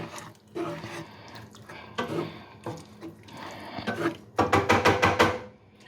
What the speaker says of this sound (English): You're gonna give it a quick stir.